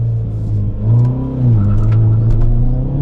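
Modified 2022 Hyundai Elantra N with a six-speed manual accelerating hard on a race track, traction control fully off, its engine droning loud and close with rising revs and a brief dip around a gear change.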